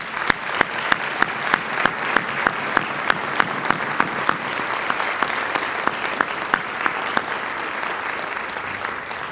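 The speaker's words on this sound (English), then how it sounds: "I'd like us to give a round of applause for him" Audience applause at a university convocation honoring a longtime organist, a steady wash of clapping with one sharp, regularly spaced clap standing out loudly near the front for most of the round.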